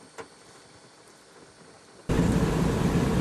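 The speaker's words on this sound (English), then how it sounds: "as we listen to the rain tickling on the roof" Steady rain drumming on a roof overnight, a broad even hiss that starts abruptly after a quiet stretch and continues close and constant.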